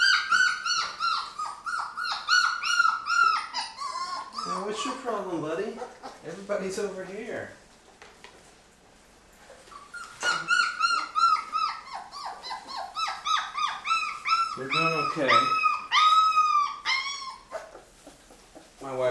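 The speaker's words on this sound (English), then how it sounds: "my daughter's dogs got a little excited and came downstairs" Excited Labrador dogs whimper, yip and bark in repeated high, wavering bursts close by indoors, with someone talking to them between the noises.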